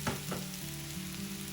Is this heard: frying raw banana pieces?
yes